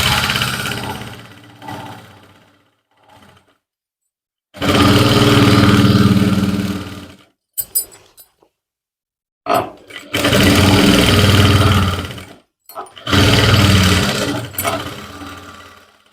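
A sewing machine stitches the waistband belt onto a pair of trousers, running in three loud sustained bursts of a few seconds each, with short quiet gaps and small clicks between them.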